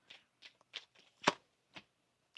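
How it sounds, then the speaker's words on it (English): A tarot deck being shuffled by hand, a series of quiet, close, crisp riffling bursts spaced irregularly, with one louder slap in the middle and no speech. "One more shuffle."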